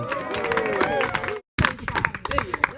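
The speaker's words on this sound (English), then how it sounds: "So please, everybody, clap for Auntie Julie." Guests at a 90th birthday party clap and murmur, with voices and music mixed in. A short gap splits the sound, then lively applause and chatter pick up again.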